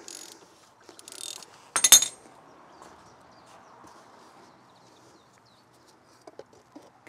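A ratchet clicks rapidly while removing the oil filter on a BMW X5, short bursts of metallic ticking followed by a sharp clank, then quiet handling noises.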